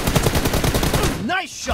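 Gunfire in the mobile shooter PUBG Mobile, a rapid burst of repeated shots in a steady rhythm that stops near the end, followed by a short electronic game tone.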